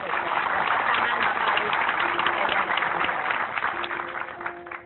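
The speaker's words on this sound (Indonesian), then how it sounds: "Oke, tepuk tangan dulu dong untuk Ibu." A crowd applauds in a dense, continuous clatter of clapping that holds steady throughout, fairly loud and close.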